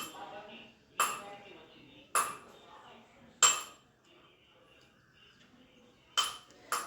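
Sharp metal scissors snip through a saree's kuchu tassel threads, a handful of crisp separate clicks spaced irregularly, close and clear above a quiet background.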